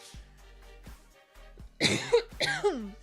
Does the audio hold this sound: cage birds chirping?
no